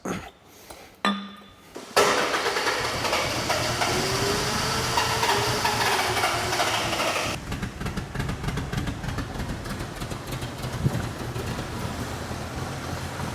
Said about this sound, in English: it's idling on, I think, 2 or 3 cylinders